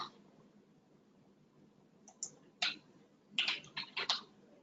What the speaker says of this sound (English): I'm just going to be typing in some easier stuff.